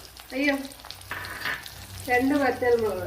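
Ginger, garlic and green chili fry in hot oil with a continuous crackling sizzle and occasional stirring, while a melodic voice rises and falls over the top in two stretches.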